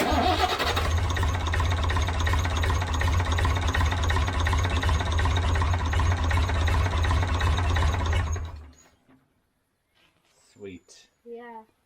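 A Leyland 285 tractor's 5.6-litre six-cylinder diesel runs loud and steady at close range, then shuts off abruptly, leaving near silence broken by a few brief voices.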